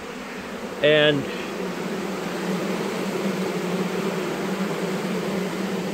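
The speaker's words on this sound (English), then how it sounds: "you can hear the sound of that hive." A queenless honey bee hive gives off a steady, dense buzzing hum close by, with a brief spoken word near the start over the drone.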